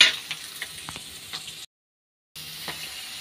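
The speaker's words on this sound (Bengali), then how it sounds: "মশলাটা করে নিয়েছি, একটু ভাজা হয়ে যাক আলুটা" Potatoes and radish frying in a pan, a soft, continuous close sizzle with faint ticks, broken by a short silent gap before it resumes.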